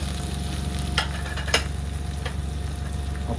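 Qeema-stuffed bitter gourds (karela) fry in a pan over low gas, giving a constant close sizzle with a low hum beneath and a few sharp crackles and spatters.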